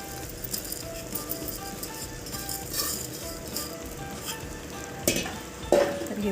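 Sabudana, sugar and crushed peanut mixture is tipped into a pan and stirred, giving a steady soft sizzle with scraping and light clinks of the spoon against the pan, plus a couple of louder stirring bursts near the end.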